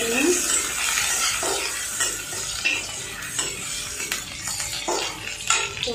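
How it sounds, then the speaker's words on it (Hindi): Chili, ginger and garlic frying in a pan over cumin, a steady loud sizzle with the scrape and clink of a spoon stirring throughout. "अच्छे से भून लेती हूँ।"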